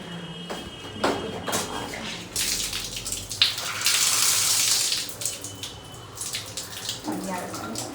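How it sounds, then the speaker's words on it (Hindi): Water from a hostel tap runs and splashes into a sink or bucket, with a louder gushing burst in the middle between softer trickles and clatter; a little handling noise close by, no clear talk. "पानी आ रहा है।"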